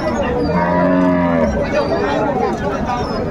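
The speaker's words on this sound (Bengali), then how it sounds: "গাভী এবং বাছুর আমরা দেখছিলাম এখানে" Cows and a calf moo loudly at a busy cattle market in Raniganj, long drawn-out lowing calls rising over steady crowd chatter and background noise.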